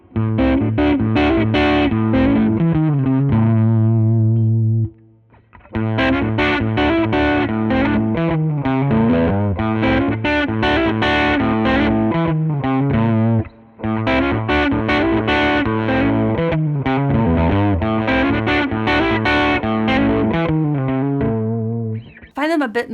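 A Telecaster fitted with new pickups played through gain, giving a thick, muddy distorted tone; sustained chords and riffs ring loud and close in long phrases with two brief gaps.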